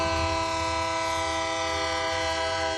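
A wayside train horn at a railroad crossing in north Lubbock blares as one loud, sustained chord, steady and unbroken throughout and heard up close.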